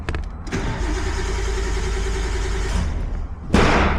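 A Nissan Skyline R32 GTS-t with a trigger fault runs with a steady, loud engine hum that rises slightly as the revs pick up, before a sharp mechanical noise near the end.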